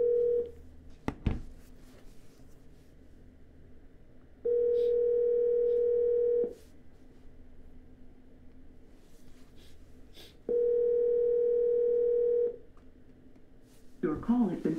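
A phone line rings out while dialing a motivated seller on a cold call, with two long, steady ring tones separated by a pause against faint background noise and a brief click near the start.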